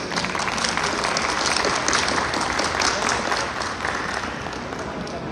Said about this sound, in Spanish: a la doctora Jesús Ofelia Angulo Guerrero, para quien pido un fuerte aplauso.